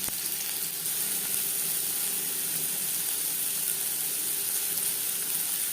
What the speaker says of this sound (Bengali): পরিমাণ মতো রিফাইন্ড অয়েল গরম করে নিয়েছি দিয়ে দেবো পেঁয়াজ কুচি